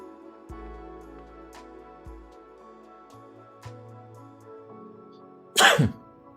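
A single sharp, loud cough bursts out near the microphone toward the end, after quiet background sounds.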